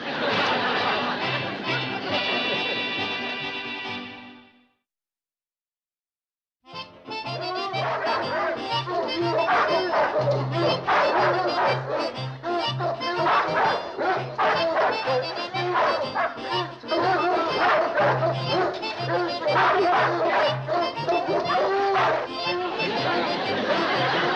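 Dogs bark repeatedly among busy chatter and voices, with whimpers and yips; after a short silence the barking and lively talk resume and continue.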